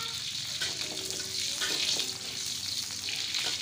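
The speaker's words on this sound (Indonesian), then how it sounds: "Pertama yang kita goreng yaitu bawang putih dan bawang merah." Garlic and shallots fry in oil in a pan for a simple chili sambal, giving a continuous close, soft sizzle and crackle with a few faint stirring clinks.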